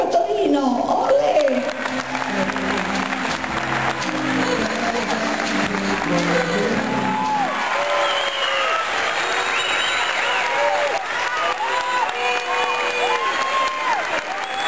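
A circus audience in a big top in Turin claps and cheers, a dense sustained roar of applause that builds as a voice over a loudspeaker fades out, with whistles and shouts rising over the clapping.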